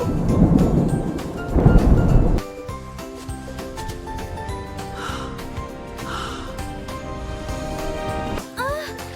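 Heavy thunder rumbles loudly with rain in a children's rainy-day story, a booming roll for the first two seconds that gives way to a layered musical score with bright chiming tones.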